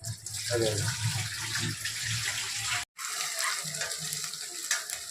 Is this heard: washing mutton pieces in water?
yes